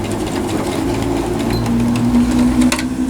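A sewing machine runs continuously up close, loud and steady, as it sews a short back-stitch and then carries on with the seam; no voice is heard.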